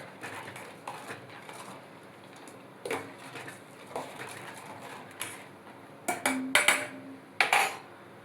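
Almond milk stirred in a pan, with a spoon clinking and scraping against the metal in a regular rhythm about once a second, then a quicker cluster of clinks near the end.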